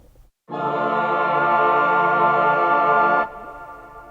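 A sustained, bright chordal synth pad, played on an iPad, holds steadily for about three seconds, then cuts off, leaving a lingering, spacious reverb tail that fades out.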